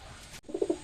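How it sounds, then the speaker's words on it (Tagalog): Pigeons coo at a feeding, with three soft, close coos in quick succession following a brief rustle. "so tara magpakain tayo mga kalapatis pakainin muna natin"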